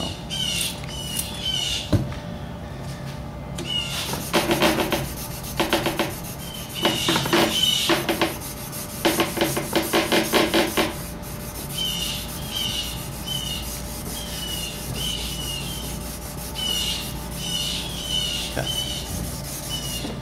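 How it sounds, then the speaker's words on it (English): Rhythmic scraping strokes of hand sanding ground knife blades come in bursts, near and moderately loud, while birds squawk and chirp in the background. "Blades have been ground, and it's time to start hand sanding."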